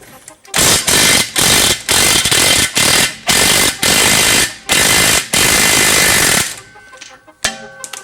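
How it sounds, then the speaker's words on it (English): A ratchet wrench loosens an 18 mm nut on a Subaru's rear suspension. It gives loud rapid clicking bursts in a steady rhythm of repeated strokes, close to the mic, then a few quieter metallic clinks. "Now we're going to take off this nut right here."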